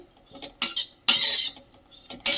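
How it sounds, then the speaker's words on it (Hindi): Chironji and coconut being roasted in a pan for Holi gujhiya filling, heard as intermittent metallic scrapes and clinks of a spoon stirring against the pan, in three or four short bursts with quiet gaps between. "ये चिरौंजी और मैं नारियल को भूने ले रही हूँ।"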